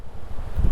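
Strong wind gusts across an open seaside marine drive near Digha, a low continuous rumble that swells louder toward the end of a brief stretch.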